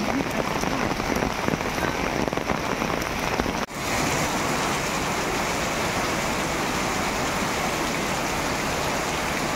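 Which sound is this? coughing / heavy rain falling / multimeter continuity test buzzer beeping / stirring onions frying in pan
heavy rain falling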